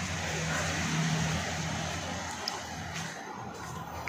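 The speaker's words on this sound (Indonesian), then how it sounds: "Ya kita udah keluar langsung dengar suara mobil." A car passes outside as steady traffic noise, a broad continuous roar at moderate distance with no voices over it.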